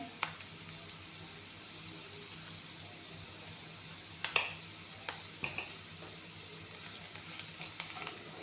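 Cumin seeds and dry chillies sizzling in hot oil in a pan, a steady soft frying hiss with scattered pops and crackles growing busier toward the end.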